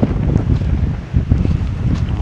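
Strong wind buffets the microphone atop the corkscrew at Laguna Seca raceway, a loud, gusty low-pitched roar that rises and falls throughout.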